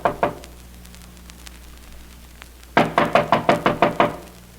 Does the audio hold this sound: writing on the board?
no